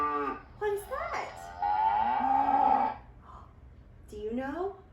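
A recorded cow moos in long, drawn-out calls, clear and close, with a voice briefly mixed in between the moos.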